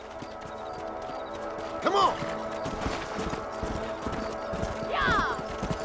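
Horse hooves gallop in Red Dead Redemption on PS3 in a steady clip-clop rhythm, with occasional whinnies, while a man calls out over them.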